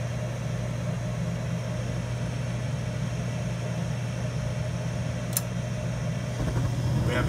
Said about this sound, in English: the inducer comes on by itself